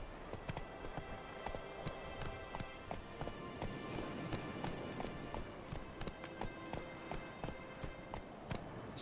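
Roach the horse gallops in The Witcher 3, hooves pounding in a steady, rapid clip-clop rhythm that runs throughout at close range, with no voices over it.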